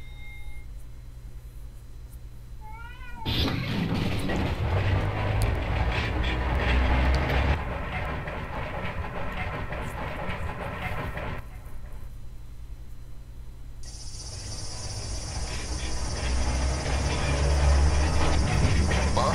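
A train in the Chu♥Lip game rolls by with a loud sustained rumble and rattling wheels, rising abruptly, easing off and then swelling again with a high whine toward the end.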